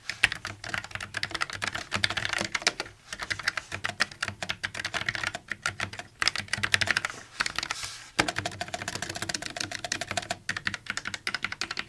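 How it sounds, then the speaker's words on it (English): Rapid, steady typing on a Logitech MX Mechanical Mini keyboard with brown switches and plastic keycaps, dense overlapping key clicks running continuously with a few short pauses, close and fairly soft. "let's do a quick typing test"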